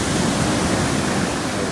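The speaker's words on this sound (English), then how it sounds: "Waves as tall as he is." Ocean surf crashing on a beach during a surfing outing, a steady loud broadband roar of breaking waves filling the whole clip with no pause or distinct individual break.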